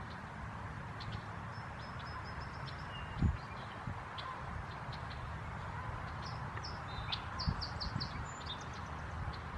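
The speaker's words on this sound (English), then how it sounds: "they're the ones who are singing everywhere around me right now, making the clicking noises." Red-winged blackbirds at a river confluence give faint, scattered high calls and clicks over a steady outdoor hiss, with a couple of low thumps along the way.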